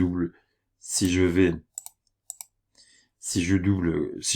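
Sharp, faint mouse clicks in EBP accounting software on a computer, two short isolated taps between stretches of a person talking.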